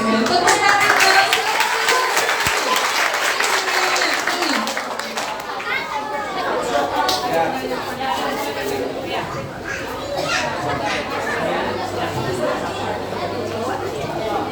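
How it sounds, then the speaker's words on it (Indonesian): Audience of children and adults at a children's Christmas event clap together in a loud, dense burst that fades into lively crowd chatter. "Tepuk tangan dong."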